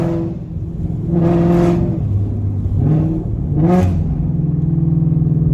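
A modified 1200whp 2020 Shelby GT500 engine revs up and down in several rising surges, loud and close, with a deep rumbling idle between pulls.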